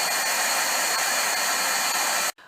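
A heat gun used for heat embossing stamped vellum blows a loud, steady airy roar close by, cutting off abruptly near the end.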